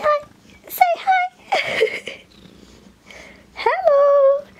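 A pet cat meows several times indoors, with drawn-out, pitch-sliding calls of varying length that come close and fairly loud, while a person's voice is heard talking between them.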